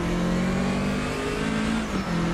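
BMW 2002 Turbo race car in Automobilista 2, its engine droning loudly at steady high revs with a sustained tonal whine, close and continuous, with a slight dip near the end.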